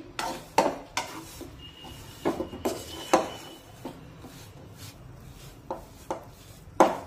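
A spatula scrapes and knocks against a pan while wheat flour and jaggery are stirred, giving irregular sharp clinks and scrapes over a faint low background, close by and with no voices.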